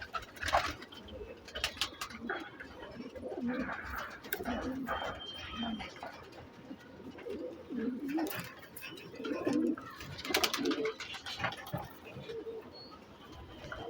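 Pigeons cooing nearby in soft, repeated throaty calls, with some flapping and rustling in between.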